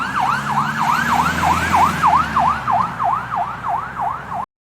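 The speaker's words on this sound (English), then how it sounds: "Here is the sound of police car." A police car siren wails in a steady, fast repeating up-and-down pattern, loud and close, with a low engine rumble beneath that fades partway through, then cuts off abruptly.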